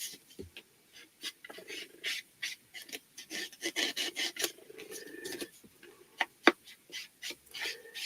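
An ink blending tool rubs Scorched Timber ink around the edges of a paper tag in short, scratchy swipes that come in uneven bursts. The sound is close and fairly quiet, with a few brief pauses.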